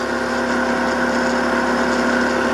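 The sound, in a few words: shunt- or series-wound DC motor running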